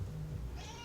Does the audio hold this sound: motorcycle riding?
no